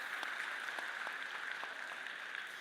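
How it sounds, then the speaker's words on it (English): An audience at a school district teacher opening ceremony claps steadily, a dense, even patter of applause from a large crowd heard at a moderate distance with no talking. "So let's applaud that."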